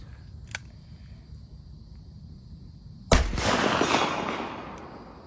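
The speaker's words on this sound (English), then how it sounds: "And for my last shot, we'll make a little noise." A single loud shot from a hand-loaded BFR revolver cracks close by, followed by a rolling echo that fades over a couple of seconds, after quiet outdoor background.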